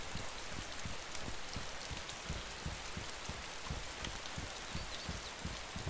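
Steady rain falls in the DayZ video game, a dense, even hiss of drops, with a faint rhythmic low thumping beneath that sounds like footsteps.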